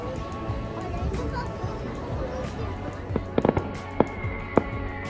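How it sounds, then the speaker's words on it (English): Several sharp pops and bangs of distant fireworks across a river go off in the second half, over a steady background of crowd chatter and city bustle at 10:30 at night in Portugal. "Fireworks across the street."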